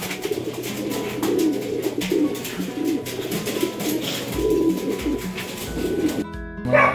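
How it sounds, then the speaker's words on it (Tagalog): Racing pigeons coo repeatedly at close range in a loft during training for a race, low throaty rolling calls overlapping one another against faint background noise, with no talk. "mag-load tayo ng kalapati"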